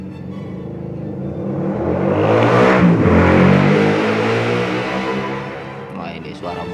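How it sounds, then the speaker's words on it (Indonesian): A motorcycle approaches, swells to a loud roar around the middle, then fades away as it passes along the road. "Wah, ini suara motor ini."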